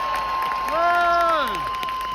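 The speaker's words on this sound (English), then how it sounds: "can we just have a round of applause for all the Palestinian medics?" Crowd at a Palestine solidarity protest in London applauding Palestinian medics, a steady wash of clapping and cheering with a sustained tonal note and a rising-falling whistle-like sound over it.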